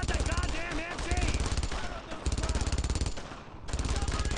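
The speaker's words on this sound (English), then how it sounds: "Take out that goddamn MG!" Rapid, loud machine gun fire from the World War II video game Brothers in Arms: Road to Hill 30, with sustained bursts of dense rattling shots and brief pauses between them.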